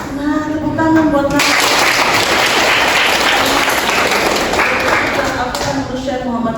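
Loud, sustained applause from a large audience at an Indonesian university teacher-training event, a dense wash of clapping lasting several seconds with brief speech at the start.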